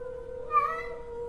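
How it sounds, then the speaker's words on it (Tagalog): A cat caterwauling at night in a village, heard as a brief, rising wail over a steady electrical drone. "nakarinig ako ng huni ng pusa. Yung parang naglalampong."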